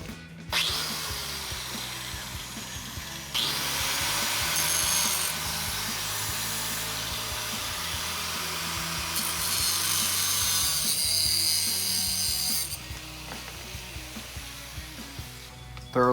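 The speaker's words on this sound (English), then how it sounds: "We're gonna use a cutting wheel, cut the inner tie rod in half" Cutting wheel slicing through an inner tie rod from a 2009-2017 Ford F-150, a close, harsh high-pitched grinding whine in two long bursts, then tapering off.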